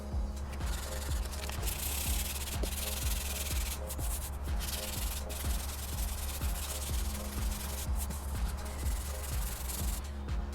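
A painted aftermarket KBD Bruiser bumper on a PT Cruiser is hand-sanded with 1000-grit sandpaper, giving close, continuous rhythmic back-and-forth scrubbing strokes with no talking.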